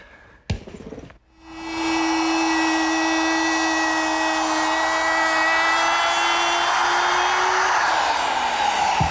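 A power router trims the edges of a rolling shop cabinet top. A brief click is followed by the motor spinning up into a loud, steady, high whine that holds for several seconds, then dips slightly in pitch near the end.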